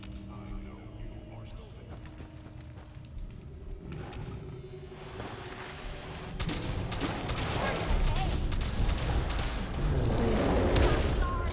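A Fallout 4 firefight crackles with rapid, repeated gunshots that thicken into dense, continuous fire over a low rumble, growing louder toward the end, while someone talks over it.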